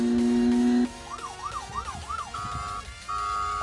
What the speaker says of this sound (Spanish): Esta es la sirena